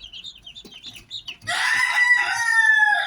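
In the morning, chickens kept on a farm cluck softly in short repeated notes, then a rooster breaks into a loud, sustained crow close by; no one speaks.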